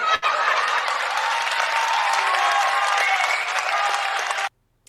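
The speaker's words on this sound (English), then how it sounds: "Give a big applause." Studio audience applause during a game show segment, loud continuous clapping with a bright, hissy texture that stops abruptly near the end.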